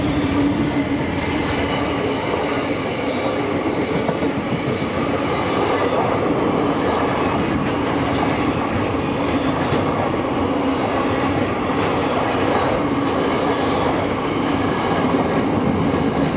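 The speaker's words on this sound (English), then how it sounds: "we see a mixed freight train from SCT Logistics from Paterson" A diesel-hauled mixed freight train rumbles steadily past in the Hunter Valley, New South Wales, with a continuous low roar and faint clattering wheels, loud and close throughout.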